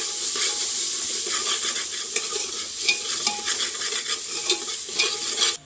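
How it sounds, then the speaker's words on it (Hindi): Spices for chhole, including Kashmiri red chili powder and kasuri methi, sizzle in a pan while a spoon stirs and scrapes through them. The frying hiss is steady and close, with light clinks and no talk. "डालकर भून लेंगे अच्छे से इसको।"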